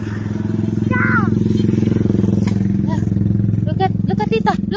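A motorcycle engine drones close by throughout, a loud steady rumble with a rapid pulsing beat, while children's voices chatter over it.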